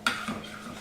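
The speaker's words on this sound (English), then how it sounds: "And give that a stir." A utensil stirs melted butter and olive oil in a pan: one sharp clink of metal, then a brief soft scrape and swirl, close by.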